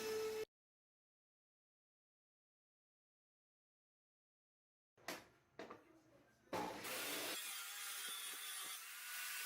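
A power saw cuts wooden pieces for the bottle-shaped base of a colonial-style bar: a short opening burst, then a pause, then several close, loud cutting passes building into steady sawing.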